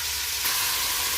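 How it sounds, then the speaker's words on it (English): Onions and peppers sizzle in hot oil on a stove for a chicken curry, a loud steady crackling hiss, constant and close, with no voices. "We're gonna add our onions and peppers. You want to hear that sizzle, that sizzle"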